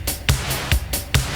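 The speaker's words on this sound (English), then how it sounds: "let's listen to our beat now with the default reverb settings" An eighties-style drum beat made in LMMS with layered punchy snare hits washed in default-setting reverb, plus low thumps, repeating in a steady loop.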